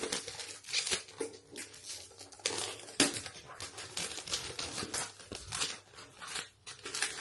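Perfume package being unboxed, with dense crinkling, tearing and rustling of packaging close up, continuous and busy throughout with no voices.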